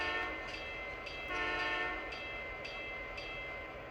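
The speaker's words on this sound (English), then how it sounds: "This particular model has an M3H air horn." A steady, sustained M3H locomotive air horn chord sounds on a model train, fairly loud and continuous, with faint rumbling rail noise underneath.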